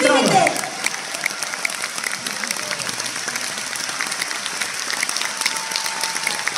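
Concert crowd in a large hall applauding a singer, a dense sustained roar of clapping that stays loud throughout, with a voice briefly heard at the start.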